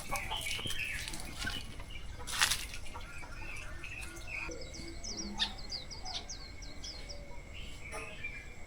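A neighbor's rooster gives its morning crow in the distance around dawn, with other birds chirping and a low outdoor background hum.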